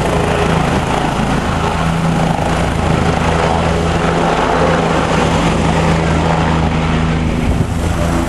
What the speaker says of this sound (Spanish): Vamos al helicóptero.